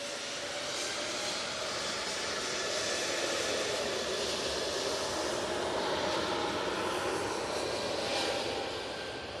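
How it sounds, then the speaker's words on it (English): A Lufthansa City Airlines Airbus A321 jet departs Manchester Airport for Munich, a steady broad engine roar swelling gently and holding strong throughout, heard from a distance without any voices. "And there is that Lufthansa City, and now making its way off to Munich."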